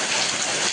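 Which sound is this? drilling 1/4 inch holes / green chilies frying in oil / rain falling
rain falling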